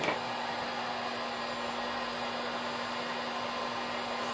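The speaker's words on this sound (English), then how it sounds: "we could give it a quick hit with the heat gun and see if something happens" A heat gun blows steadily over a poured fluid painting, giving an even, whirring hiss with a constant hum underneath that runs unbroken and fairly quiet at close range.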